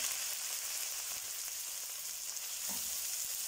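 Onions and okra fry in hot oil in a pan for achari bhindi, giving a steady, dense sizzle that holds at an even level throughout, with a soft clink near the end.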